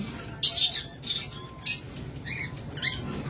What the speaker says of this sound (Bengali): এরপর এখানে রয়েছে সুপার কোয়ালিটির গ্রিন চিক কোনুর